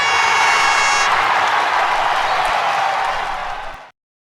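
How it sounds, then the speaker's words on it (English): An audience claps steadily after a talk on sleep and the immune system, loud sustained applause with some cheering that fades out abruptly near the end. "Let us give Dr. Ocampo another round of applause."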